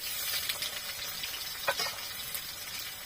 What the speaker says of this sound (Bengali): কড়াইয়ে আর কিছুটা সর্ষের তেল দিয়ে দিচ্ছি। এবার এর মধ্যে পেঁয়াজটা দিয়ে দিচ্ছি।